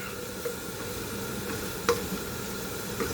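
Sautéed bitter gourd (ampalaya) stirred in a hot pan, with a steady sizzle underneath and a few scattered clinks and scrapes of the utensil against the pan.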